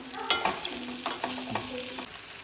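Onion masala frying for paneer rice, a continuous sizzle broken by quick metallic stirring scrapes and taps of a spoon against the pan, close and clear, with no one speaking.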